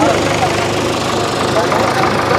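Sonalika tractor engine running steadily in a field during a tractor competition, a loud continuous mid-range drone with a rough knocking texture throughout and no clear pauses.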